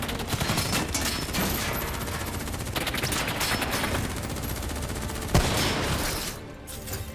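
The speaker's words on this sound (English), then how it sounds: "Who's shooting?" Gunfire in a Call of Duty Black Ops 3 cutscene, dense rapid volleys of automatic shots crackling continuously, with a sharp loud blast near the end before the firing drops away.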